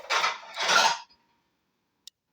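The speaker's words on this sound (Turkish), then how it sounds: "bir kere böyle yıkıyorum bulaşıkları öyle koyuyorum" Washed dishes being loaded into a home dishwasher give a rattling clatter of plates and cutlery in two bursts, then silence broken by one small clink.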